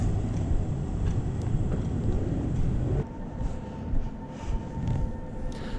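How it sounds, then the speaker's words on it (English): A tram rumbles out of a tunnel along a snowy Prague street, a loud, close low rolling roar that drops suddenly midway, leaving a quieter hum with a faint tonal whine. "The tram coming out the tunnel."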